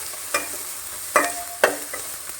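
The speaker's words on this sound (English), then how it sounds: "Saute for a little while" Onion and tomato being sautéed in a pan while cooking Goan prawn pulao, with a soft steady sizzle and a few sharp stirring scrapes and clinks at irregular intervals, close by and fairly quiet.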